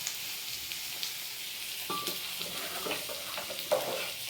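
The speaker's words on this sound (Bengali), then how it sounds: "এই জিরে আর সর্ষে দিয়ে সম্বাদ দিয়েছি, আর শুকনো লঙ্কা দিয়ে এটা একটু নেড়ে" Cumin, mustard seeds and dried red chili sizzle in hot oil, a continuous bright crackle with scattered pops and a few scraping stirs of a spatula, heard up close with no talking.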